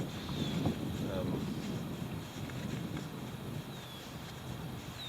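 Wind blowing over a cold lake around a small solo canoe, a steady rushing roar buffeting the microphone, with faint water movement and no clear voices.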